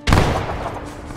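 A grenade goes off in a video game as a single loud, close blast with a sharp onset and a long rumbling decay, with no voices over it.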